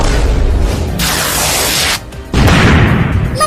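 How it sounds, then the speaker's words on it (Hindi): A large firecracker bursts near a house, a loud broad blast with a noisy rush, a brief dip, then a second heavy burst, alone without talk. "लगता है किसी ने हमारे घर के पास एक बड़ा पटाखा फोड़ दिया है"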